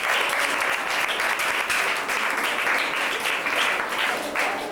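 Dense, steady applause from an audience at a school prize-giving ceremony, close and continuous throughout with no pauses.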